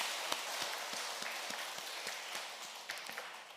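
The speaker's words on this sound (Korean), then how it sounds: "우리 여기까지 지켜주신 하나님께 우리 감사의 박수, 영광의 박수 하도록 하겠습니다" Church congregation applauding in thanks during a Korean sermon, a dense, steady wash of many hands clapping at a distance, fairly faint, with no voices over it.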